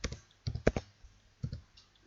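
Someone types on a computer keyboard on a Windows 10 PC, tapping keys in two quick clusters with a pause between them, close and fairly crisp.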